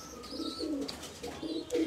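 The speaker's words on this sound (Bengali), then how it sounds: "আমার খুব পছন্দের কবুতর এইগুলো, মন্টু জেনারেশনটা" Pet pigeons of the Montu line coo softly nearby in a few short, throaty rolling calls, quiet and alone with no talk.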